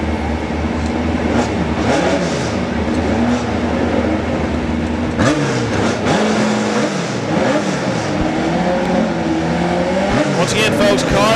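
Drag race cars, among them Todd Howard's Megabug, roar continuously at a drag strip, with engines revving and rising in pitch as they launch; a public-address voice talks over the loud, steady engine noise.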